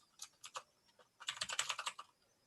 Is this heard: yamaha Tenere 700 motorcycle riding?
no